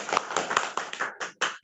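An audience at a business plan presentation applauds, sharp claps landing in a quick, fairly even rhythm close to the microphone, heard alone without talking.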